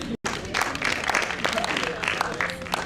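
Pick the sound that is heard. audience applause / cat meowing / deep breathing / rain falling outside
audience applause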